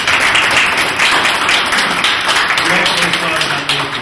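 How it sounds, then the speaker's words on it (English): Audience applause at a civil rights sit-in anniversary gathering, a steady dense wash of clapping held at an even level for the whole stretch, with some voices mixed in underneath. "So let's give him a applause."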